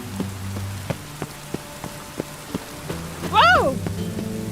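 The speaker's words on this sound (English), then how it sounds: "Rain makes this city even more dreary." Rain patters through a dreary city in The Witcher 3, soft steady drops with sparse distinct drips over a low hum, and a brief rising-and-falling tonal cry near the end.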